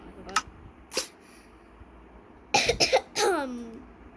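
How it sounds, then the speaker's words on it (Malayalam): Several sharp coughs, first scattered singly, then a quick cluster of three, followed by a rising vocal sound, all fairly close against a quiet background. "ചെറിയൊരു ചുമ"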